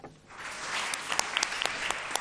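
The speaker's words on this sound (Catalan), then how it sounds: "amb aplaudiments i crits a la sala" Applause fills a council chamber at a city council's inaugural plenary session, steady clapping from a crowd with a few sharp shouts and whistles popping out over it.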